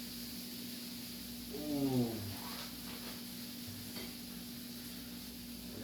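Mac and cheese grilled cheese sandwich sizzles in a hot pan with a low steady frying hiss, a brief exclamation and a humming tone from the stove sitting over it.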